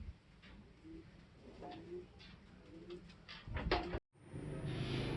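Racing pigeons back from a race coo softly in a loft in the afternoon after feeding, several low murmuring calls close by over faint background noise, with a brief clatter near the end.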